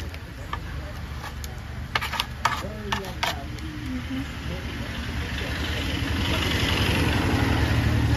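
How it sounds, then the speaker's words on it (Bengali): Vehicle traffic moves along a road lined with roadside shops, heard as a low engine rumble that swells steadily louder toward the end, with a few clinks and faint voices in the foreground. "রাস্তায় চলাচল করছে যানবাহন"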